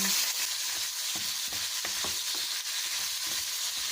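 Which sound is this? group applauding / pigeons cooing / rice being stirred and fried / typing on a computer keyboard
rice being stirred and fried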